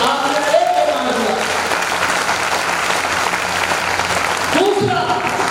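A large indoor audience at a motivational talk claps loudly and continuously, a dense, sustained wash of applause close by, while a voice speaks briefly near the start and again near the end.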